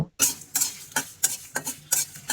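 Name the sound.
dry roasting pickle spices in empty wok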